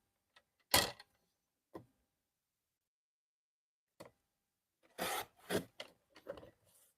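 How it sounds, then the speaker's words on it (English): A paper trimmer cuts card pieces diagonally with a few separate, close rasping slices and clicks, spaced between quiet pauses, the last three coming in a quick run. "put these in my trimmer and cut these diagonally"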